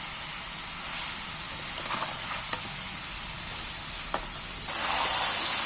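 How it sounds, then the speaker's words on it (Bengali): Onions for chicken curry sizzle steadily in a pan, a constant hiss with a couple of sharp clicks from stirring and a louder burst of sizzling near the end. "আর পেঁয়াজটা ভাজা ভাজা হয়ে যাবে"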